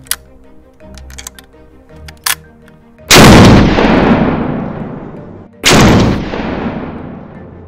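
A 500 Bushwhacker pistol-caliber carbine loaded with 300 grain Hornady FTX bullets fires two very loud, close shots a few seconds apart, each with a long booming tail, after some light handling clicks.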